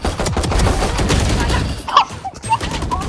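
Rapid pistol gunfire in the video game Valorant, a burst of loud sharp shots over busy game noise.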